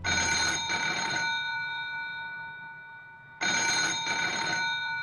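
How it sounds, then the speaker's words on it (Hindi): A telephone rings with a bright electronic trill, two bursts separated by a few seconds of quiet, loud and close. "वो नहा ही रहा था कि उसके कमरे का फोन बजा।"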